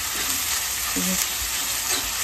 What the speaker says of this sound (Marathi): बघा कांदा परतून झालेला आहे व्यवस्थित, जरा गोल्डन होऊ दे